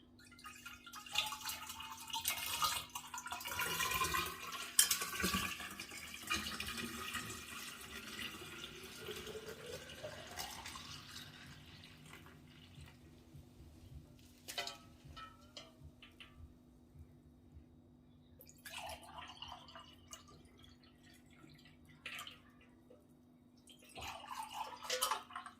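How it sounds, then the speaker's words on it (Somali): Water is poured into a container during drink preparation, a steady splashing flow that tapers off, followed by a few brief later bursts of pouring or splashing, with no talk. "waxaan sameynayaa waan ku shubanaynaa biyaha"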